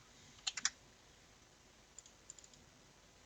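Typing on a computer keyboard while working in CATIA, heard as a quick burst of three close key clicks followed by a few scattered, fainter taps in a quiet room.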